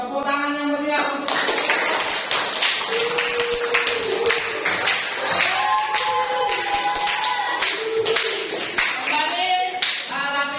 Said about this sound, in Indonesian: kita berikan aplaus, tepuk tangan yang meriah